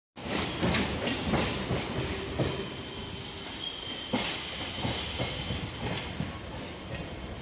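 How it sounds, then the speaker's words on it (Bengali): A Majerhat–Barasat local train pulls into Dum Dum station with a loud, close rumble, clickety-clack wheel beats and brief metallic squeals, with no talk. "আমাদের ট্রেন চলে আসছে দমদম স্টেশনে"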